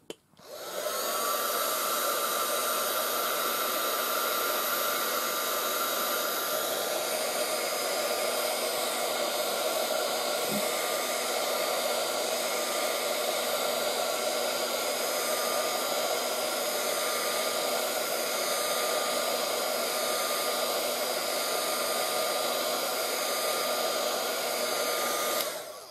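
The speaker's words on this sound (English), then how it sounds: "Let's grab the heat tool," A heat tool blows steadily close by while drying paint on an art canvas, a continuous fan whir and airy rush holding at an even level throughout, with one brief click partway through.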